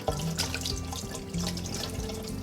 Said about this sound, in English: I'm using cold water.